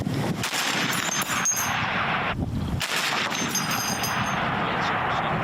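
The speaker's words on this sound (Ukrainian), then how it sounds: "Увага, постріл." Loud, dense gunfire crackles nonstop, with bursts of rapid shots and booms blending into a continuous roar, as if close to a firing line.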